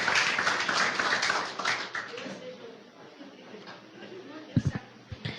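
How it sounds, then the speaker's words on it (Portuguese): Church congregation applauding, a dense patter of clapping that swells near the start and fades as a voice speaks over it. "Se é para ele, pode aplaudir."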